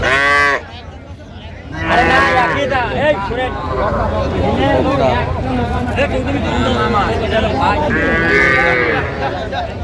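Heifer calves at a busy cattle market in Aftabganj moo repeatedly, with several drawn-out lowing calls close by, over a constant babble of traders talking and bargaining.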